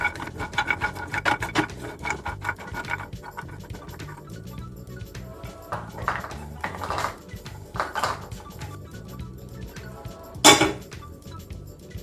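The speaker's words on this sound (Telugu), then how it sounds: "పిస్తా పప్పు యాడ్ చేస్తున్నానండి" Pistachio nuts are tipped into a pan and dry-roasted, giving close, busy scraping and rattling with metallic clinks as they are stirred, and a sharp clatter near the end.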